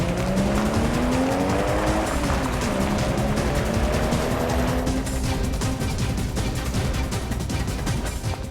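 A car's engine revs and climbs in pitch while its tires squeal and skid loudly, the noisy rush of the vehicle continuing close by to the end.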